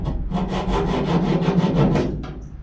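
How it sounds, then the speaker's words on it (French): A hacksaw cuts leftover rivet stubs on a Renault Master van in quick, even back-and-forth strokes, close and loud, with about a dozen rasping passes before it stops. "donc pour ça j'utilise une scie à métaux pour venir scier."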